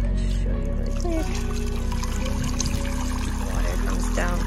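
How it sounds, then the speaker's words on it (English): Water pours steadily down the waterfall section of a kids' Step2 Rain Showers Splash Pond water table, a continuous close trickling stream with a brief voice partway through. "the water comes down through here if you put it up in this table"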